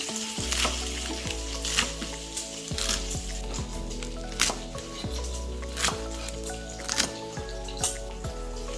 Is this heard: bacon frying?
yes